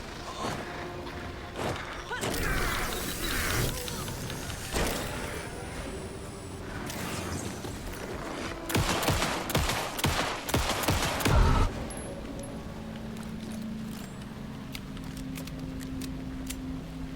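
Gunfire in Alan Wake 2, a run of rapid shots and bursts from roughly two to twelve seconds, loudest in a dense cluster near the end, with a player talking over parts of it.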